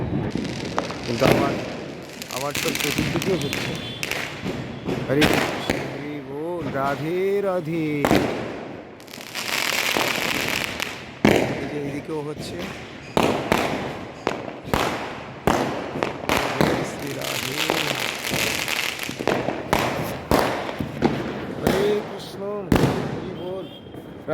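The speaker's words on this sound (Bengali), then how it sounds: "এখানে তো বাজি ফেটেই যাচ্ছে চতুর্দিকে অনেক বাজি ফাটছে" Firecrackers and fireworks burst all around during Diwali in Braj, dense rapid cracks and pops from several directions, some near and loud, others distant, with a person talking over them.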